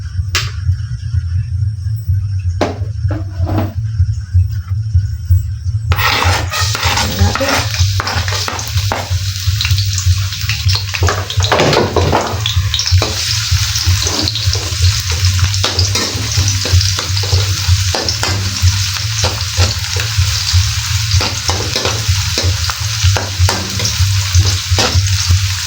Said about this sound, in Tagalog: Lagyan na tayo ng mantika. Magigisa tayo ng bawang sibuyas.